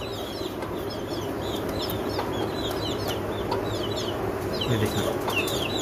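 Young chickens, the chicks of a black rooster, chirp and cluck continuously up close, with many small overlapping peeps over a steady background and a short spoken phrase near the end.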